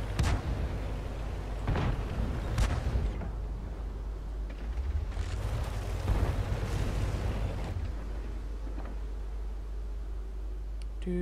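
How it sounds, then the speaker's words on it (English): Artillery booms and explosions in the World of Tanks video game, several loud blasts at irregular intervals, some sharp and close, others rolling and heavier, over a constant low engine hum. "And there's artillery."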